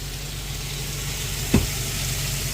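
Onions, carrots and celery for a beef and barley soup sizzle steadily in a pot, with a single sharp clank partway through, close and alone without talk.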